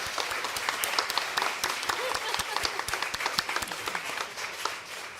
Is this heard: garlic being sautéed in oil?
no